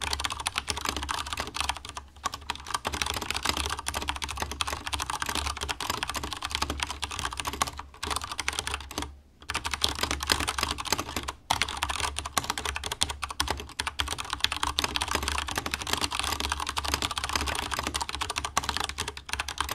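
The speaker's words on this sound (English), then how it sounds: "Now for a typing demonstration." Rapid, continuous clacking of a Vortex Tab 75 mechanical keyboard as someone types steadily, with only a couple of brief pauses and no talking.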